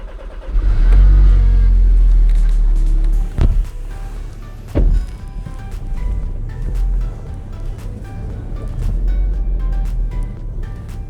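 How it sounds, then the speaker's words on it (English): A VW Golf R engine with not every plug connected, starting and revving loudly at first, then settling to an uneven, rough idle with a couple of sharp bursts, alone and close. "Golf running with not every plug connected."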